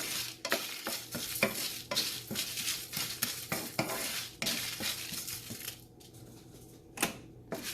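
Spices dry-roasting in a pan with a steady scrape and rattle of stirring, many sharp clinks of a utensil against metal over a low sizzle, close and fairly loud.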